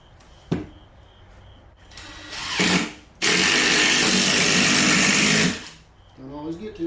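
A power tool drives screws into a mobile home wall during a floor repair, with a short sharp hit, a brief rising burst, then a loud steady whir of about two seconds before stopping.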